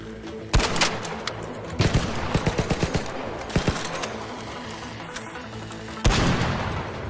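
Explosions and gunfire in the video game Arc Raiders, a dense barrage of sharp bursts and rapid shots over a rumbling background, with a heavy boom near the end.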